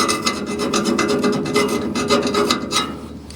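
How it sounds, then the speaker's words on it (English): Metal file rasping burrs off sharp edges on a car hauler, quick repeated strokes making a close, steady scraping rasp with no talk. "I'm gonna take this file and I'm gonna break the edges"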